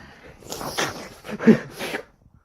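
A person takes several short sniffs of something indoors, a series of four or five nasal snorts at close range with brief pauses between.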